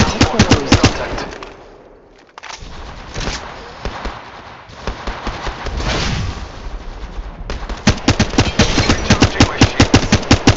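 Rapid automatic gunfire in an Apex Legends match, with loud dense bursts that pause briefly around the two- and seven-second marks before resuming in fast, evenly spaced shots.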